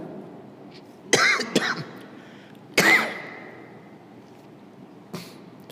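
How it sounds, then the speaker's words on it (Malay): An elderly person gives a few harsh, raspy coughs and throat-clearing bursts, spaced apart against a quiet room, with a fainter cough at the end. "Batuk orang tua gitu bunyinya tu."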